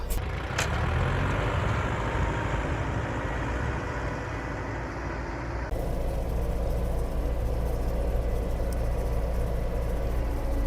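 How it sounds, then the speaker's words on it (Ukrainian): A DTZ 5504N tractor in four-wheel drive pulls a Kverneland 2-40 plow through near-swamp mud with its wheels slipping. Its engine drones loudly and continuously, and the tone shifts partway through. "Страшенна пробуксовка йде колеса."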